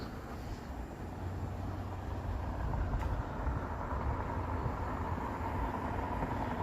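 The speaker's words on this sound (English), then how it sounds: "You'll probably get used to that highway noise and the train noise." Low, steady rumble of a train rolling past in Toronto, heard from a distance with highway traffic noise blended in, holding a constant level throughout with no voices.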